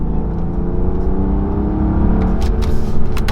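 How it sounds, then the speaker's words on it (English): A BMW F10 N55 turbo engine with a performance intake hums steadily at close range, swelling slightly toward the end with a whooshing turbo note and induction noise as it winds down through a downshift. "You can hear the turbo now"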